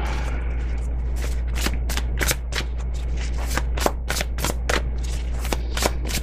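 Tarot cards are shuffled in quick, crisp flicks and snaps, a rapid irregular run of clicks heard close over a steady low background hum.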